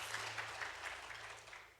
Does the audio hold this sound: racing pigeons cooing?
no